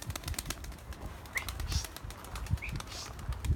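A young blue pigeon flaps its wings and takes off, giving soft, quick fluttering bursts with faint chirps against a quiet outdoor background.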